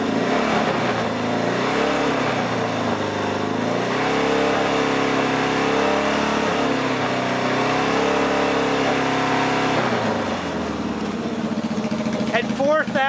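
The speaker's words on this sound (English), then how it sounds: "I'm going to rev it up a little" A Yamaha XS650 motorcycle engine, close and loud, idling then revved up in a few smooth rising and falling sweeps, with a final quick blip near the end.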